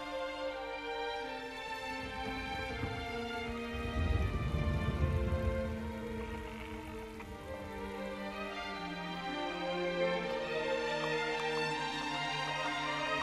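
Steady rain falls in the video game Shadow of the Colossus, a continuous wash of drops with a soft low rumble swelling midway, under layered game music.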